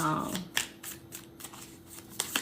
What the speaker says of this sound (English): It's a new deck, so like all the cards are sticking.